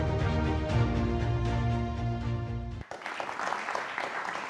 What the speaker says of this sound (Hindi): तो जोरदार तालियों के साथ हमारे दर्शक आपका स्वागत कर रहे हैं।